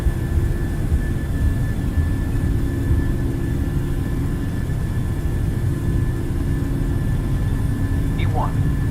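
Airliner engines spooling at takeoff power in Microsoft Flight Simulator, a steady loud roar with a sustained tonal whine through the whole stretch, a brief rising chirp near the end, with speech likely mixed faintly underneath.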